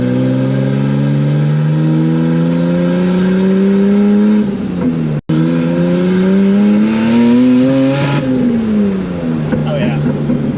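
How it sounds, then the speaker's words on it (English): Turbocharged widebody BMW E30 accelerating hard, its engine note climbing steadily through the gears with a brief gap at a shift, loud and close, while someone talks over it. "All the right turbo noises."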